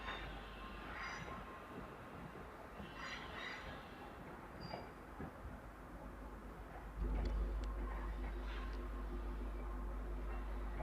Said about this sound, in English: Out goes 350-127 with the 11:33 London North Western Railway service to Stafford via Stoke-on-Trent.